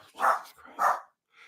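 A dog in an apartment building barks twice in quick succession, fairly close and loud, followed by a fainter short yelp; no one speaks over it.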